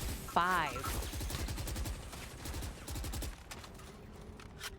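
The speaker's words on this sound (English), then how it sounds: "Takes down Nerve. I'm still shook by that operator. Ooh, saw the barrel. Takes the headshot" Valorant gunfire sounds as quick bursts of shots, with a caster talking quickly over them.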